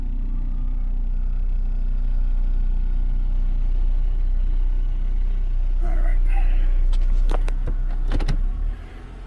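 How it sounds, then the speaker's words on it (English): A 2004 Honda Accord's engine runs at a low, steady idle while the car is backed up, followed by brief clunks and a door or window motor near the end as the vehicle settles, with no talk. "Let me back this thing up so I can get my tool out from underneath there"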